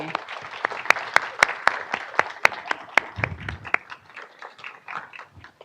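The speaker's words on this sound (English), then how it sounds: "Big round of applause for everybody." An audience at an induction ceremony for a radiography honor society claps. A few loud, crisp claps stand out near the front, then the applause thins and fades toward the end.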